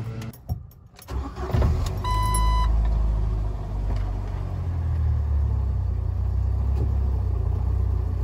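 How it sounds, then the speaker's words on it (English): A 4-cylinder Jeep TJ engine cranks over after a few clicks and a brief chime, catches, and settles into a steady, close, rumbling idle that runs on alone. "reconnect the battery, start it up, and let it run for a while so the PCM can get to know its nice new part."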